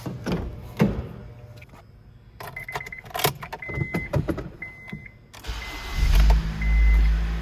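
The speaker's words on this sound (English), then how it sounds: "The car starts great now." K series car engine cranking and catching after a fuel refresh, preceded by keys jingling and interior clicks, then the starter whirs and the engine settles into a low, quiet idle close by.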